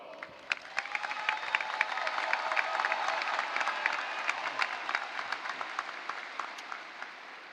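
A graduation audience applauds the Colony High School class of 2024, a steady wash of many hands clapping at moderate distance, with a few sharper nearby claps and faint crowd noise throughout.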